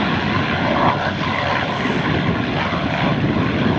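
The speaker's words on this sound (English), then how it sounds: "Another Mustang taking off." A P-51 Mustang propeller fighter takes off at an airshow, its piston engine roaring loud and steady throughout with a dense, continuous drone and no voices.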